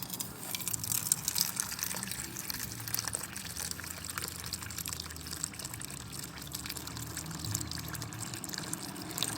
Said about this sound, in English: you have to pour water very perpendicular to this hole